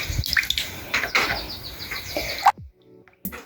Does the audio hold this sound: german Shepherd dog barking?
no